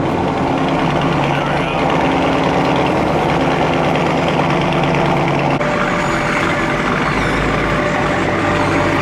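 A Chrysler 300 Scat Pack with its mid mufflers deleted, started up and idling; a loud, steady, deep engine rumble fills the whole stretch with no pause, louder and rougher in the second half.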